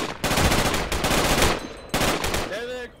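Loud, close machine-gun bursts rattle in a video game battle, a dense stream of rapid shots broken by a brief pause before another burst, with an electronic chirp near the end.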